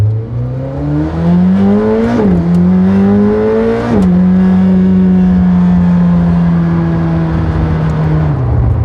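A McLaren hypercar accelerates hard in fifth gear. The engine note climbs loud and close, dips briefly at shifts, then holds a steady high-rpm roar, with no talk.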